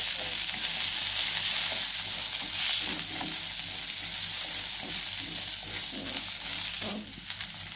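Small onions sauté in a pan for a country chicken curry, giving a loud, continuous close-up sizzle with occasional soft scrapes of stirring.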